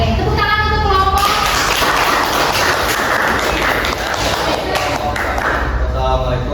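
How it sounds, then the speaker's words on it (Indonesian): Students in an Indonesian classroom clap for a presenting group, a loud, busy burst of clapping and taps mixed with children's chatter and voices talking throughout. "Tepuk tangan untuk kelompok."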